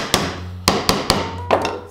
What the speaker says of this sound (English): always make sure that you hammer the nails there straight